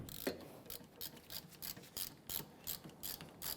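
A hand ratchet with a 14mm socket clicks rhythmically while loosening caliper bracket bolts on a 2011-2015 Kia Sorento rear brake, about a dozen quiet, evenly spaced ratcheting strokes with no voices.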